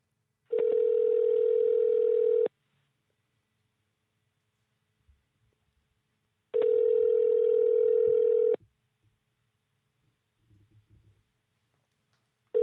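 A telephone line tone plays while a podcast host calls a guest: two loud, steady two-second buzzing tones separated by a few seconds of near silence, with faint handling noises between them.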